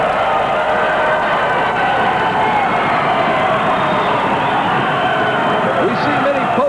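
A wrestling arena crowd on its feet cheering for a wrestler, a dense, steady roar of many voices that fills the whole stretch with no break.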